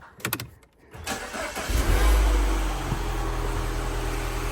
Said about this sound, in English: I'm just gonna get the car started